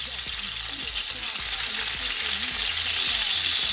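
Creamy garlic chicken pieces hiss loudly and continuously in a hot pan as they are flipped over, a dense close sizzle with soft music underneath.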